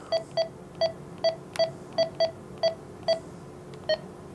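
Keypad beeps on a Kenwood TH-D74A handheld amateur radio while a call sign is entered: about eleven short, clear, evenly spaced tones in a quick irregular series, close and alone against a faint background hiss.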